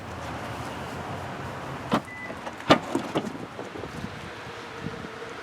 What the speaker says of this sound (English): Both trucks have foot-activated power tailgates that can also open up the glass independently.